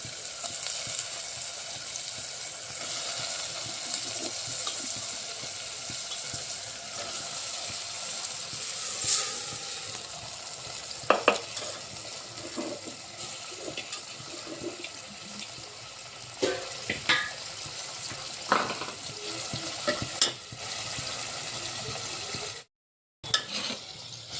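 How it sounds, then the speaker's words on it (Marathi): Jackfruit simmering and frying in spiced masala, a long low steady sizzle with a watery bubbling texture, punctuated by occasional sharp spoon knocks and scrapes toward the end, fairly faint and without voices. "आता ह्या मसाल्यामध्ये आपल्याला 5 मिनिट फणस शिजवून घ्यायचा आहे"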